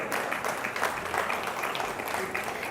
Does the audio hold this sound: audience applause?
yes